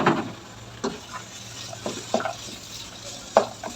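Minced meat that has been browning for several minutes sizzles in a pan with a steady, fairly faint hiss, while a spoon stirs it and scrapes the pan with a few soft clinks. A low hum runs underneath.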